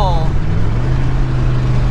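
A Pontiac Firebird with a cowl hood cruises along a highway, its exhaust giving a steady low drone with rumbling road noise and a brief whine at the start.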